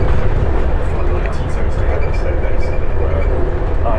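A modern Croatian Railways train at a station gives a steady, loud, broadband rumble with hiss, heard close and continuous throughout with no clear pauses.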